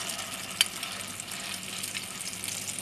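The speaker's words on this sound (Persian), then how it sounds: "داخل روغن میندازیم" A steady, soft crackle and hiss of Iranian cutlet patties frying in oil, with one sharp pop near the start.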